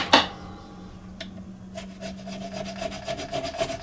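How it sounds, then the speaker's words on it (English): Diamond grit file working a guitar fret on a Schecter seven-string: a sharp scrape, a pause, then a quick run of short rhythmic rasping strokes, close and fairly faint. "These are diamond grit files, by the way. So it cuts in both directions."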